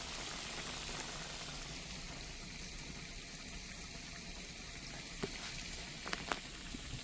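Hot water cornbread patties, four at a time, frying in oil deep enough to nearly cover them: a steady, dense sizzling hiss with occasional small pops and crackles, no voices.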